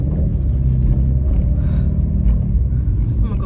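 Car pulling away after a quick U-turn on a road, a steady loud low engine rumble throughout with no clear revving peaks, heard from inside the vehicle.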